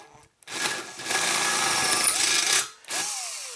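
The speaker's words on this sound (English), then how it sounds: "don't put hardly any pressure down on the drill and just let it spin and work its way through" A power drill whines steadily as its bit grinds through metal for a couple of seconds, stopping, then starting again with a rising motor whir.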